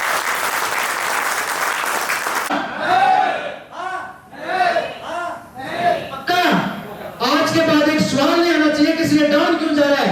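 A crowd at an offline trading training event bursts into loud applause for a couple of seconds, then the clapping gives way to raised voices and cheering calls from the audience that carry on to the end.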